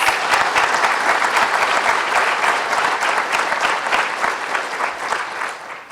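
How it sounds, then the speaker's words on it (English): An audience at a Women Veterans seminar gives committee members a round of applause: dense, sustained clapping that holds steady for the whole stretch and eases only slightly toward the end. "Please, let's give all of them a round of applause."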